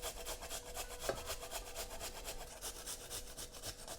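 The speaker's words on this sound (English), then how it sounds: "Grate it both together into the dressing." Garlic cloves and ginger are grated together over a bowl of dressing, a quiet, close, rhythmic rasping of rapid strokes without any speech.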